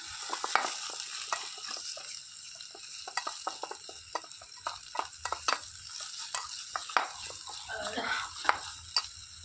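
Chili powder is stirred into biryani masala frying in a pot, making a steady sizzle with a spoon's scraping and clinking, all close by.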